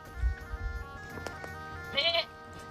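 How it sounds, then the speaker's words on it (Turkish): Mountain goats in the Scottish mountains give a single short, bright bleat near the end, heard alone after a stretch of low wind rumble and quiet outdoor ambience. "dağ keçileri"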